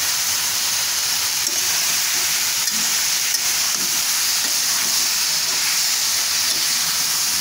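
Steady loud sizzling of boiled vegetables and chopped green chillies stir-frying in a hot pan for a Chinese-style vegetable dish, with faint stirring scrapes underneath and no talking.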